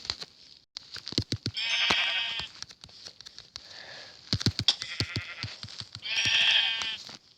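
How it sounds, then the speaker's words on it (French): Sheep bleating in a farming video game, several loud close bleats in bursts with short patter-like clicks between them, no talk. "Là il y a 2 moutons"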